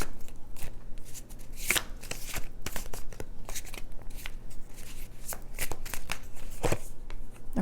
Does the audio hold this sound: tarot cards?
yes